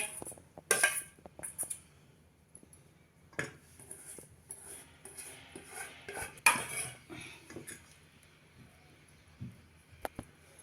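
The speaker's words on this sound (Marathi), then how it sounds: "सगळे कोरडे मसाले शेवग्याचा गर आणि कणिक छान एकत्र मिसळून घेतली आहे" Drumstick pulp, dry spices and wheat flour mixed in a bowl, with sporadic clinks and scrapes of a spoon against the vessel, close and irregular with quiet gaps.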